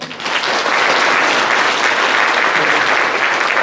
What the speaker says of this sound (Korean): 박수하십시오.